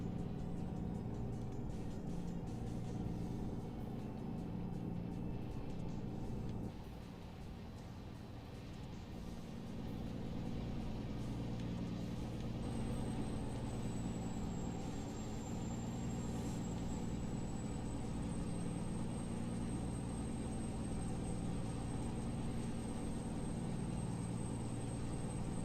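An Audi car's engine runs steadily with a loud, continuous rumble in an American Truck Simulator street drive, briefly dipping before a high whine rises and holds over the drone.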